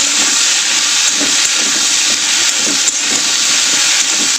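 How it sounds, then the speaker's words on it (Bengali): Okra frying in oil in a kadai, a loud, continuous sizzle and hiss close up, with faint soft bubbling pulses underneath and no talking. "ঢ্যাঁড়সগুলো আগে একটু লাল লাল করে ভাজবো"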